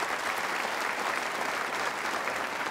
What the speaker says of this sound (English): Let's give them a big round of applause, along with all the others mentioned.